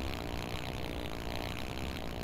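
A motorcycle engine in GTA San Andreas runs at a steady, continuous rumble, fairly quiet and with no voices over it.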